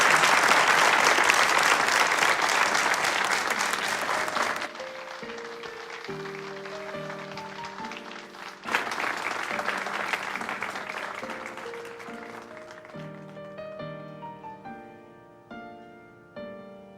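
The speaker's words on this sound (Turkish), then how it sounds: "Kocaman bir alkış." A television studio audience bursts into loud applause for a singer, which breaks off as piano music begins, then a second wave of clapping swells over the playing before fading.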